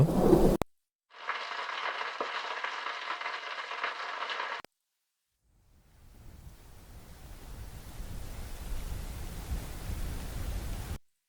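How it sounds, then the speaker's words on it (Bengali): A synthesized rain sound effect from a sound-design plugin: a steady hiss fills the second half, swelling gradually and holding dense and even after an earlier band of noise and a short silence. "বৃষ্টির শব্দ"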